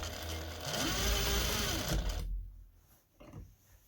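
A sewing machine stitches over a trouser zipper in a short, fast whirring run up close, then stops and leaves quieter handling noises.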